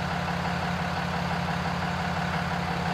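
Vehicle engine idling steadily right after being started, a constant low rumble with even mechanical hum, unbroken and fairly close with no voices.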